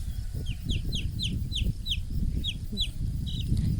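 A chick peeps in a quick, regular series of high, sharp chirps over a low background rumble, in a village in Sivas, Turkey.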